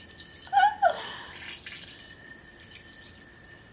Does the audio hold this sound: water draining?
yes